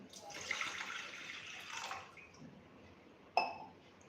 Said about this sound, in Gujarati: 1 ગ્લાસ જેટલું પાણી નાખીશું.